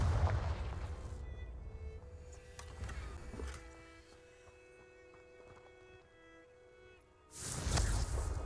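A Confringo blasting spell explodes in Hogwarts Legacy, with a loud booming burst at the start, a quieter stretch of sustained tones and small hits, then a second heavy blast near the end.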